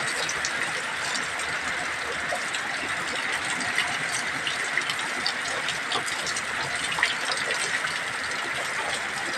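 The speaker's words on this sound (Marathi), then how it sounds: "हे असा येतो बघा पाऊस." Heavy rain pours down on a road, with water flowing along it in a steady, dense hiss and gush that stays even throughout, with no talk.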